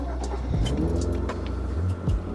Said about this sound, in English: We crank it, but it cranks a little too long.